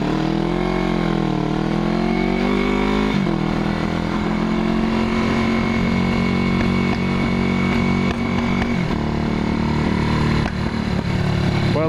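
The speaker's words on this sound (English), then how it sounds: "I'm sitting here fucking revving my motorcycle." A 1981 Yamaha XS400 Heritage motorcycle engine revs loudly up close, holding a steady roar that drops and climbs in pitch at a couple of points.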